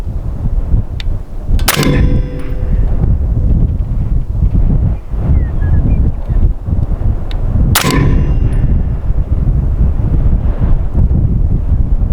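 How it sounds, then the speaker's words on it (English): Strong wind buffets the microphone throughout at an outdoor long-range shooting spot, with a steady low roar. Two sharp rifle-like bangs cut through it, one near two seconds and one near eight seconds. "Wind's picking up."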